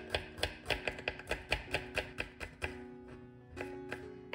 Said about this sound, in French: À présent, nous allons couper l'ail.